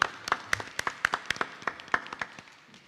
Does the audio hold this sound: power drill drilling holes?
no